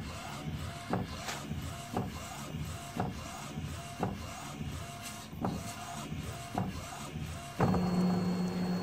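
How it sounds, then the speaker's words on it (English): Inkjet printer laying down white ink: the print head shuttles back and forth in a quiet, regular rhythm of short whirring passes about once a second, ending in a louder mechanical hum. "After print the white ink, we can start to print the color ink on the top of the white ink."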